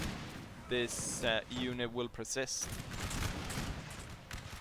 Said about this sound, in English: this one is coming under quite heavy cannon fire from down there